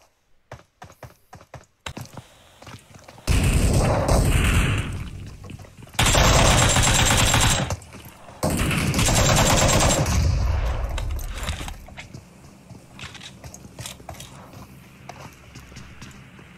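Bursts of rapid automatic gunfire in the PUBG Mobile video game, with three long loud volleys separated by pauses and scattered single shots and clicks around them.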